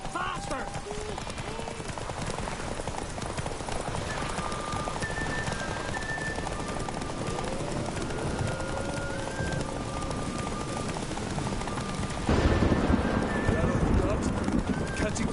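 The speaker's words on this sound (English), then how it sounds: "Horses are antsy." Horses gallop in a race in The Witcher 3, a continuous rush of hoofbeats with whinnies and bird chirps over it, running unbroken to a louder surge near the end.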